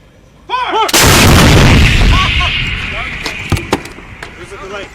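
An M777 light towed 155mm howitzer fires one very loud, deep boom that rolls on with a long rumbling tail during a field firing drill, and voices talk before and after the blast.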